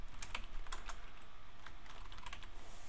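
Code being typed on a computer keyboard in a programming session: a fast, close run of crisp key clicks, dense at first and then thinning into scattered taps, with no speech.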